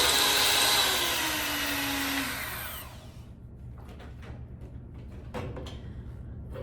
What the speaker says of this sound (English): Using your mixer, go ahead and cream them up just a little bit.